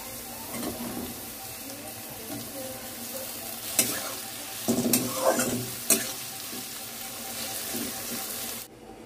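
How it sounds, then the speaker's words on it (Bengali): Onion frying in a little oil as a tempering for dal made with moong, toor and chana, a moderate sizzle punctuated by several clinks and scrapes of a spoon against the pan. "একটু পেঁয়াজ ফোড়ন"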